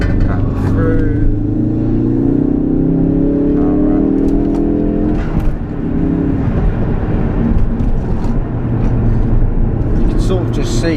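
A 345bhp Ford Focus RS, warmed up on open national roads, pulls hard with a loud interior engine drone rising in pitch, a brief dip at a gear change, then climbing again under steady acceleration.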